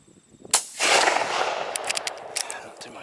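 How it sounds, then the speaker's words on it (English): A 20 gauge shotgun fires a tungsten TSS buckshot load of 25 grams, a single sharp outdoor report followed by a long rolling echo that fades over the next couple of seconds. "So this is the first shot of the evening, the tungsten BB."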